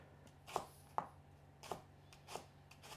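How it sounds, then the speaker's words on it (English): Knife cutting peeled rhubarb stalks into small chunks on a board, about five sharp isolated chops spaced unevenly, faint and close in a quiet kitchen. "I'm just gonna cut it into small chunks"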